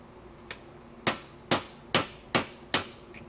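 A faint tap, then five sharp framing hammer strikes on an old BMW Airhead motorcycle at a steady pace, each ringing briefly before the next, close by with no talking.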